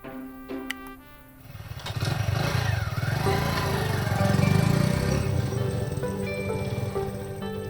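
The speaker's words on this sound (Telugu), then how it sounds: "కీ ఆన్ చేసి బండి స్టార్ట్ చేయి." A motorbike's engine is started after a few clicks and then idles and revs in a steady, close, loud putter that carries through to the end.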